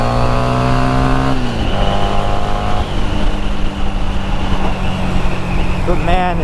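A Harley-Davidson XG500 motorcycle engine drones steadily while being ridden, with a loud close-up tone that shifts pitch as the rider changes gears, and wind rushes over it.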